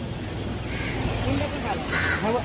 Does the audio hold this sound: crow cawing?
yes